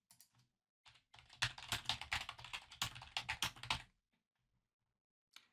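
A search phrase typed on a computer keyboard: a burst of rapid, close, crisp key taps lasting a few seconds, with a few isolated clicks before and one after, in an otherwise quiet room.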